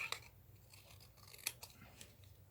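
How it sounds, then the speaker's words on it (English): Scissors snip through a paper cherry cobbler card label, a handful of soft, close crisp cuts spaced irregularly over a quiet background. "we're going to take our cherry cobbler label and cut it in half."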